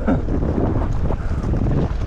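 Strong wind buffets the microphone on a Crimean cycling tour between Feodosia and Koktebel, a steady low roaring rush with no gaps for the whole moment.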